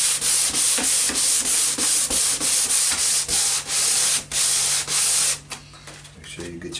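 Sanding a kitchen cabinet by hand with sandpaper wrapped around a sanding sponge: rapid, steady back-and-forth rasping strokes, close and loud, which stop near the end, leaving faint handling noise.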